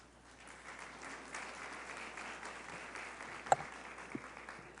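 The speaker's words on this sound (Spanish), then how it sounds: "Un aplauso a la doctora." Applause from the audience at a medical talk on hepatitis C as a doctor is welcomed, a soft, steady, fairly distant patter of clapping with a sharp louder clap near the end.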